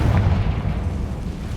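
A Confringo fire spell in Hogwarts Legacy explodes with a deep, rumbling boom that is loudest at the start and then slowly rolls away.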